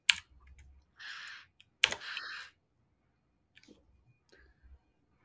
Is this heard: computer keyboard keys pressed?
yes